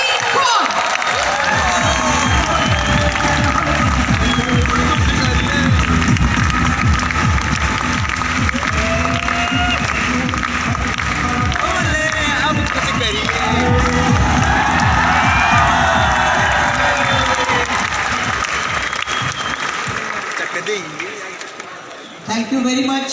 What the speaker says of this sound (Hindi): दोनों हाथ ऊपर, जोरदार तालियां for Mrs. Surinder ji Kaur.